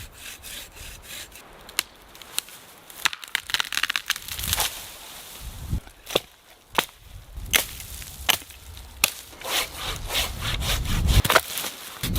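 A saw rasps through a spruce tree in Alaska in uneven strokes, with sharp cracks and creaks of splintering scattered among the cuts, fairly close and without speech.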